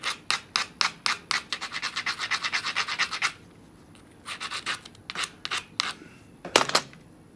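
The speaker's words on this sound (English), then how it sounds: "I'm gonna grind." Edge of a small Texas flint nodule ground during knapping: quick bursts of rhythmic rasping strokes, a fast run of about twenty, a pause, then slower scattered strokes and a couple of harder scrapes at the end, close and alone.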